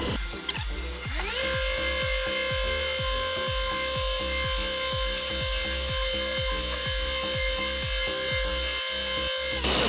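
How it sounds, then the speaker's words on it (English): A Flex machine polisher works car paint at speed 6, a loud steady whine with a strong rhythmic pulsing throb as the pad sweeps back and forth close up, alone throughout. "I'll do 2 passes of machine polishing, and we'll go right up to speed 6 as well"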